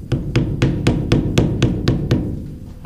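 A small hammer taps a stump grinder clutch into place, about ten sharp, evenly spaced metallic knocks in quick succession, close and loud, with no voices.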